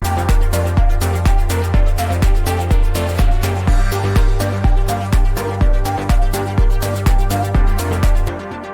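A four-on-the-floor house groove plays with steady kick drums and crisp layered hi-hat samples ticking on top, a thick bass note underneath, loud and upfront.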